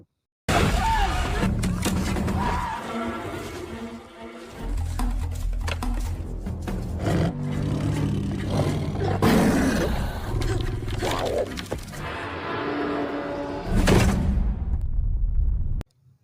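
A big cat roars in the film Prey, deep and loud, in several surges over a dense soundtrack of rumbling effects and music that fills the whole stretch.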